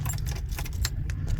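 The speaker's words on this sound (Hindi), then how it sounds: "गाड़ी को करते हैं स्टार्ट।" A key ring jangles close up as the key goes into a Suzuki Mehran to start it, with sharp metallic clinks over a low, steady engine rumble and no talking.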